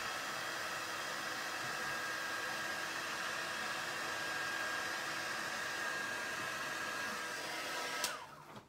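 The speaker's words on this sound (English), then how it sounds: "So I was talking over the heat embossing." A heat embossing tool blows hot air over embossing powder on a card. Its steady, airy fan hiss runs close and unbroken before the tool is switched off and winds down near the end.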